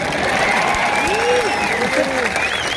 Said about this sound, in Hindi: देखो, महिलाएं ताली बजा रही है, पुरुष ताली नहीं बजा रहे।